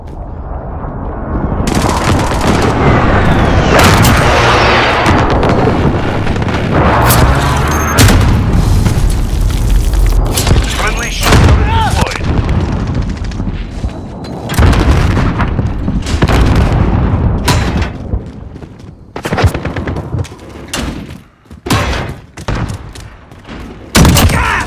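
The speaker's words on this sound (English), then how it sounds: "Precision airstrike on the way." Precision airstrike explosions in Call of Duty Modern Warfare: a long barrage of heavy, close booms with bursts of rapid gunfire, loud and dense throughout, with sharp impacts still landing toward the end.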